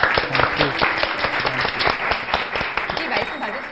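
A studio audience claps together during a Korean Christian broadcast, a dense, steady patter of many hands, with voices talking over it.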